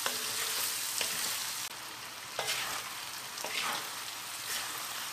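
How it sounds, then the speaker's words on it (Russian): Onions sizzle and crackle steadily in a hot pan while browning, with occasional stirring scrapes breaking the continuous frying hiss. "И жарим, чтобы лук немного подрумянился."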